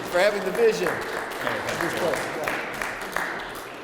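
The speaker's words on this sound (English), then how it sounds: "give him a round of applause for having the vision" Scattered clapping from an audience at a school open house, a room's worth of hands applauding steadily under a brief voice at the start.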